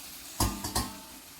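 A lid goes back onto a cooking pot of vegetables and cheese Maggi noodles, three quick metallic clanks close by in a quiet kitchen.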